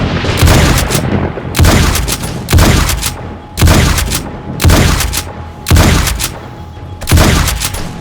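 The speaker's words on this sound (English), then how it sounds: "Let's try a shotgun." A shotgun fires in the zombie survival game 7 Days to Die, seven loud booming blasts roughly a second apart, each with a short rumbling tail, close and dominant with no talking.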